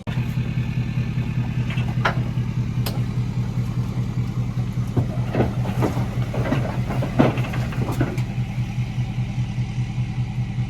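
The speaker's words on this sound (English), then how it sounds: "There's a tractor." A tractor engine runs at a junkyard with a steady, loud mid-pitched chug, with several clanks and knocks scattered over it.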